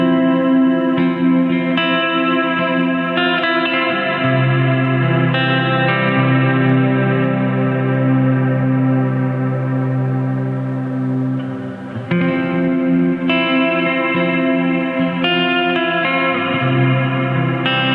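Guitar played through an MXR M300 reverb pedal with the controls cranked nearly all the way up, giving sustained, washy ambient chords that swell and blend into a continuous soundscape, with no talking.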